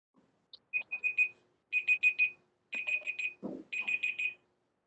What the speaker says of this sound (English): It sounds like the timer was up.